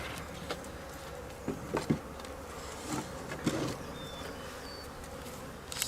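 Honey bees hum in an open hive, a faint continuous buzz with occasional soft knocks and handling sounds nearby.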